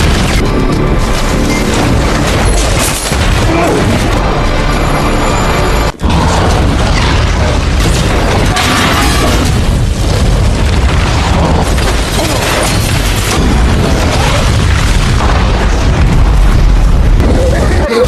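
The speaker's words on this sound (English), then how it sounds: "We've had a mass casualty explosion." A burning oil rig roars with a loud, sustained blast and crashing rumble, dense and close, with a sharp crack partway through and voices under the din.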